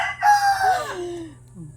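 A rooster crows once nearby behind a farmhouse in the Philippine countryside, a loud rising call that trails off into a drawn-out falling tail.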